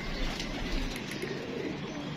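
A pair of domestic pigeons coos softly nearby, low throaty murmurs rising briefly over a continuous background hum, with no talk.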